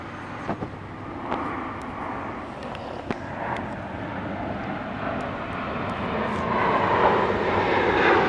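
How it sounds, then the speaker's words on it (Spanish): Delta passenger airplanes pass overhead, a broad steady engine roar that swells gradually toward the end, with a few faint clicks in the foreground and no talking. "Están pasando aviones, es un Delta"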